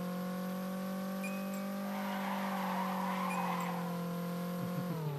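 A car drifts with its tires squealing and skidding in a long, steady screech over a droning engine hum, fairly close, ending with a shift in pitch.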